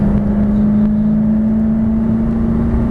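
A 2006 Ford F150 Lariat Super Crew pulls forward at about 70% throttle, its engine giving a loud, steady droning hum with road and wind roar throughout and no pauses.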